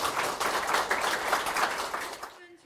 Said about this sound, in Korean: 이 15개 팀들 모두에게 한번 다시 한번 큰 박수 한번